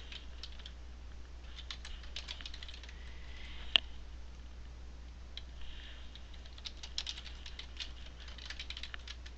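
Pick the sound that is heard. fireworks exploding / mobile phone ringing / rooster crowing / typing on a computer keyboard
typing on a computer keyboard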